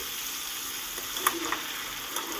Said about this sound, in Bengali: আলুটাকেও সুন্দর করে লাল করে ভাজতে হবে